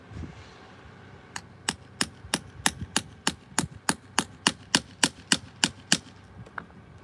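Around sixteen sharp metallic hammer strikes ring out in an even, quickening rhythm as a hole for a copper rivet is punched through leather on an outdoor anvil.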